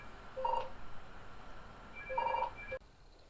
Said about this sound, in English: So the phone just rang there